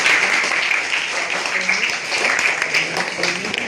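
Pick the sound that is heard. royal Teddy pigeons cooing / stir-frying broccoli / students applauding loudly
students applauding loudly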